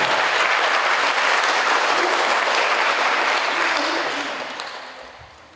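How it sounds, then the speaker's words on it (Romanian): A crowd at a 2011 sports gala gives loud, sustained applause for the managers of the host institution. Thick, continuous clapping fills the room and then fades away over the last second or so. "Aplauze pentru acești oameni"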